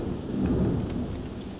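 Rain and thunder in the video game Silent Hill 2: a deep rolling thunder rumble over steady rainfall, loud and close, with no talking.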